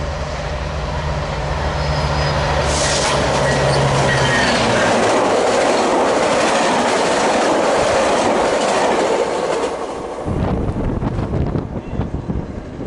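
Metrolink passenger train 581 bound for LA passes at Commerce, a loud steady rumble of rail cars with clickety-clack wheels and wind buffeting across the microphone, then a sudden drop as the last car goes by.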